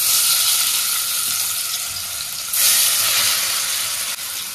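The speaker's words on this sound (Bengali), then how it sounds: "আমি চিংড়ি মাছটা দিয়ে দিচ্ছি" Prawns frying in hot mustard oil in a wok give a steady, close hiss and sizzle that runs throughout, swelling briefly louder partway through, with no one speaking.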